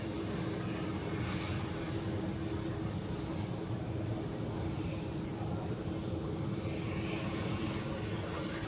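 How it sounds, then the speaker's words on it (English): An Aer Lingus airliner departing Zurich airport, a steady broad distant roar of jet engines holding constant throughout, with no talk. "Oh, Aer Lingus is departing."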